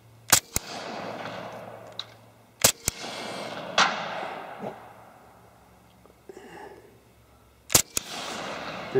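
An HK Mark 23 pistol fitted with a Silencerco Osprey 45 suppressor fires Underwood 230 grain rounds outdoors, giving three sharp, muffled reports spaced several seconds apart, each with a short trailing echo.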